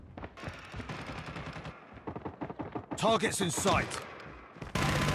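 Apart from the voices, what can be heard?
Kilo 141 LMG gunfire in the video game Call of Duty Mobile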